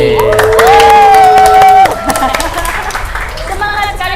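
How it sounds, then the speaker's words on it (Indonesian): A crowd at a smartphone launch talk show claps and cheers after a sustained musical tone, with a loud voice over the start and the noise fading into scattered clapping. "Boleh dong tepuk tangan dong yang ada di sini."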